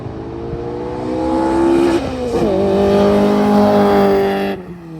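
A Honda Integra with launch control and a Honda S300 builds revs, holds a buzzing limiter-style drone, then surges as it launches, engine tone climbing loud and close before easing off near the end.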